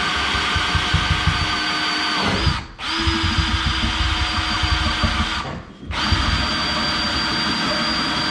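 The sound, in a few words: power drill with 24mm bit drilling through thermalite block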